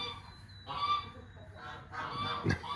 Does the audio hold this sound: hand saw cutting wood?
no